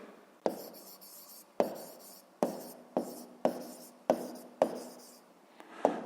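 Pen or pencil writing down an answer on paper during a physics exercise, heard as seven sharp scratching strokes at a steady rhythm, close and fairly quiet, with no voices.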